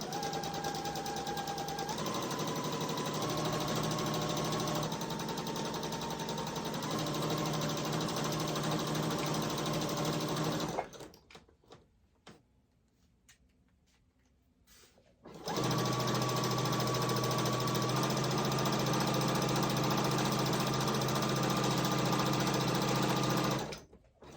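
Singer sewing machine stitching a fabric scrunchie, a steady loud whirring run of about eleven seconds, a pause of near quiet, then a second sustained run to the end.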